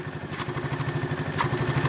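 A Honda Forza scooter with a broken air filter cover idles close by, its engine putting out a rapid, even low-pitched chug with a slight rattle.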